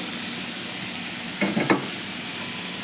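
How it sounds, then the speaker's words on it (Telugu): Chicken, mushroom, onion and garlic frying in a pan: a constant close hiss of sizzling oil, with a couple of brief scraping stirs in the middle. "ఈ నాలుగు ఫ్రై చేసుకోవాలండి ఇలాగా వేగించుకోవాలి"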